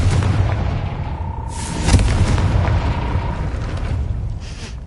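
A Confringo fire spell blasting at a gate in a Harry Potter video game, heard as a loud booming burst near the two-second mark over a dense rumbling game soundscape, with no talking.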